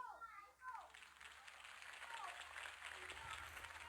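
Crowd applause following a campaign speech for Harvey Dent, a dense, steady wash of clapping that fills the whole stretch, with a voice and some vocal sounds briefly surfacing near the start.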